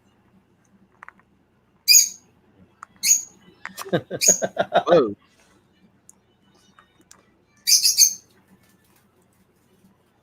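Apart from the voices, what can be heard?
bird calling in a DC animated movie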